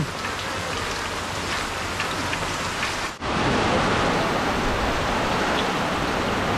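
Rain falls outside as a steady, even hiss of drops on surfaces. It dips briefly partway through, then returns as strong as before.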